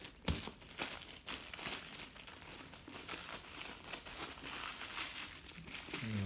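Foil insulation for a ski boot crinkles and crumples continuously as excess is trimmed away, with close, faint rustling and small sharp crackles throughout, alone without talk.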